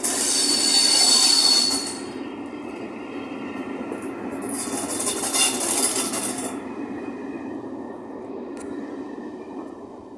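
A train passes Maidstone West station with loud, high-pitched wheel squeals in two bursts over a steady rumbling roll of the wagons on the rails.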